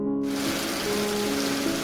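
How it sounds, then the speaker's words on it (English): Heavy rain pours down steadily from an abrupt start, a dense, loud, continuous hiss with faint tonal hum running underneath, no voices. "Rain started pouring."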